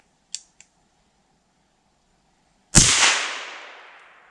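Two faint mechanical clicks, a pause, then a single sharp gunshot from a Chiappa Little Badger .22 Magnum rifle cracks loudly and rings out with a fading echo.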